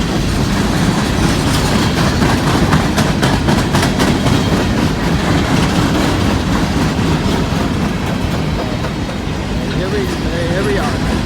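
An empty BNSF coal train rolls past close by in a loud, steady rumble with continuous clickety-clack of wheels over rail joints, lasting the whole stretch.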